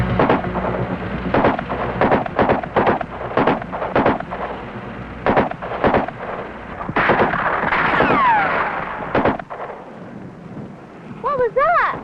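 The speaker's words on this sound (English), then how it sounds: "Gunshots." Gunshots ring out in a series of sharp, loud bangs, some in quick clusters, with rumbling echoes and whistling sounds over an outdoor background.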